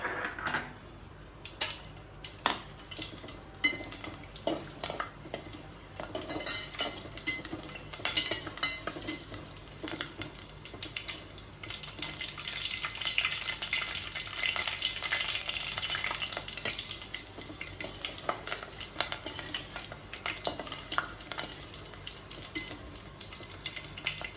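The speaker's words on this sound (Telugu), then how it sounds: "ఆయిల్ కొంచెం మరుగుతున్నప్పుడు పచ్చిమిర్చి 4 వేసుకోవాలి" Green chilies and curry leaves fry in simmering oil for ginger pulusu. Stirring scrapes and utensil clinks come first, then a louder, sustained sizzle swells through the middle, with no talking.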